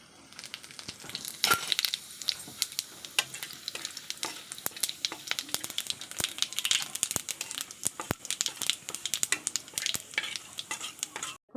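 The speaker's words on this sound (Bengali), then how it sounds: "এখন আমি দিয়ে দেবো দুটো শুকনো লঙ্কা আর সাথে দিয়ে দেবো আমি গোটা সাদা জিরে" Dried red chilies and whole white cumin seeds crackle and sizzle in hot oil in a pan, with dense steady frying, scattered sharp pops and stirring scrapes throughout, close and with no talking.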